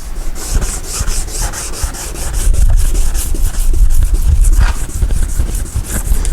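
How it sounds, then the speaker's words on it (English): A car headlight lens is wet-sanded with a pad in one direction only, producing a close, rapid, rhythmic rasping rub in steady back-and-forth strokes. "We're just going to keep going back and forth like this in one direction only."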